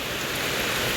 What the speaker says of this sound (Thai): ฝนตกแล้วจ้า ฟังลาวฝนตกแล้ว